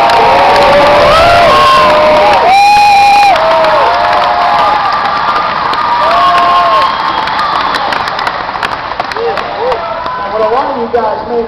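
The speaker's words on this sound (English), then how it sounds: "a big round of applause and a big thank you for the captain of" A camp crowd of children and adults cheers, whoops and claps loudly for a baseball captain, a dense roar that fills the whole stretch with shouts rising over it.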